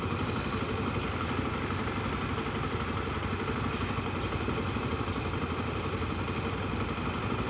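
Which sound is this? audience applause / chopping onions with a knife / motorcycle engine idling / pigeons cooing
motorcycle engine idling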